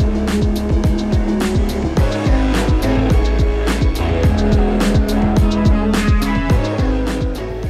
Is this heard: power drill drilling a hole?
no